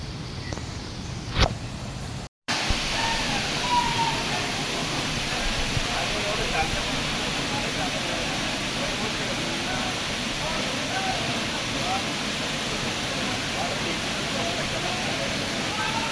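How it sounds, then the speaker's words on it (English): Big waterfall on a trek at Bhandardara, a constant broad roar of rushing water that follows a brief cut, with a voice speaking at the start. "See, there's such a big waterfall."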